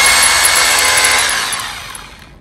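A Bulldog rotary hammer runs in combined drill and hammer mode, a loud, close, harsh whirring rattle that fades and slows as the tool spins down over a couple of seconds.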